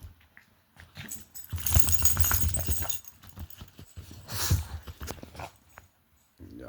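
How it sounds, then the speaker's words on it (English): A dog vocalizes nearby in short rough bursts, whimpering and yipping in uneven clusters with quiet gaps between them. "Y'all see my dog showing out."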